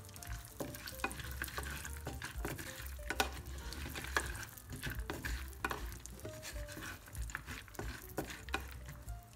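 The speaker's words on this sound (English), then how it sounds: "If your nuts are raw, fry or toast them quickly." Raw nuts frying in hot oil in a pan, a continuous close sizzle with frequent light taps and scrapes of a utensil stirring them.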